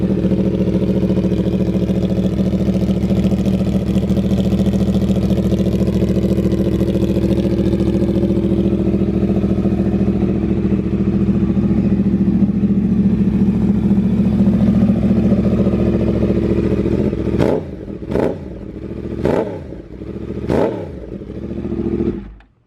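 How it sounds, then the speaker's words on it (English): A rebuilt 2007 Yamaha R1 sportbike fires up for the first time and idles at a loud, steady, close-range rumble, then ends with four sharp throttle blips before shutting off. "I'm gonna show you guys in this video right now the first startup of this bike"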